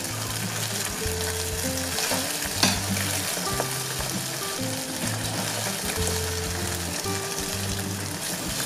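Navy-style macaroni sizzles steadily in a hot kazan while being stirred. A dense, continuous frying hiss carries scraping stir noises and faint background tones throughout.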